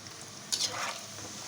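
Chicken pieces for a homemade pickle fry in hot oil, giving a steady soft sizzle with a brief louder crackle burst partway through, moderately close and without talk.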